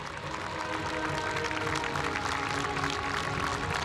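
At a South Korean Armed Forces Day ceremony, the crowd applauds as parachutists land one by one, a fairly quiet but continuous patter of clapping from a distance with no gaps.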